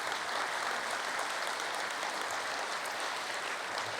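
An audience at a Drancy municipal council installation applauds steadily throughout, a continuous soft wash of many hands clapping at moderate distance with no voices on top.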